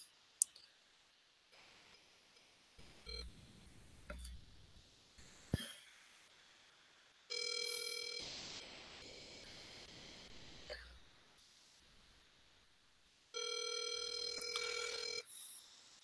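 Outgoing call ringback tone on a phone: a few faint clicks and taps, then two long, loud electronic rings separated by a quiet gap, with no talking.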